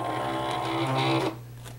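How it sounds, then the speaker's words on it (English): A WRMK Foil Quill foil cutting machine drawing a project in: a steady, close mechanical hum with a whirring motor tone that stops abruptly near the end, no voices. "And then I'm going to load my project into the machine."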